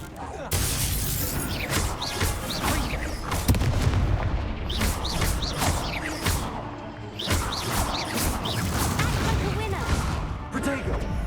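Incendio fire spell bursts in Hogwarts Legacy, a series of loud whooshing blasts and crackling impacts in clusters, with combat noise and a voice talking between them.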